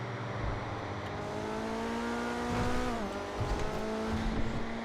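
A video game sports car engine, the Coquette D10 Pursuit in GTA Online heard from first-person view, hums steadily at moderate volume, its pitch sliding up and down with gear changes, muffled and fairly quiet, with no voices.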